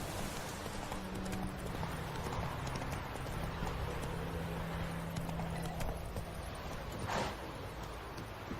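Horse hooves in The Witcher 3 video game, a soft, continuous clip-clop at a quick gait, faint and low under a steady ambient wash.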